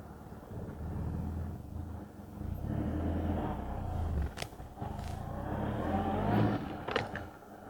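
A 4x4 on Ridge Ryder recovery tracks, idling out in four low, with a low, fairly quiet engine rumble that rises slightly at times, wind buffeting the microphone, and no talk.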